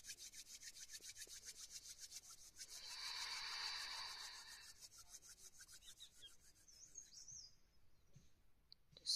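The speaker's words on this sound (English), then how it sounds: "Let's just rub our hands for a bit." Two hands rubbing briskly together to build warmth, a soft, steady, close-up swishing friction that swells louder in the middle, heard alone in a quiet room.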